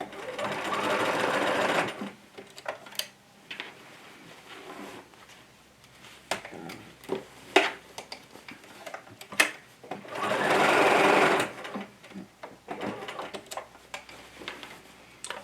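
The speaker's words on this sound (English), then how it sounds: "I'll put my machine like this and put it in reverse, and then just stitch backwards, leave it in reverse" Sewing machine stitching denim on a jeans project, two sustained whirring bursts of motor running near and loud, separated by quieter clicks, taps and handling noises.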